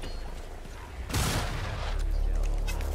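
Rattling Gunner, a Skaven rat-man with a rotary gun in Warhammer: End Times - Vermintide, opens up in a sudden loud burst of continuous rapid fire that keeps roaring to the end after a short quieter lead-in.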